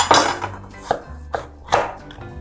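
A knife chops zucchini into thick pieces on a cutting board, four or five distinct thuds at an uneven pace, close and alone.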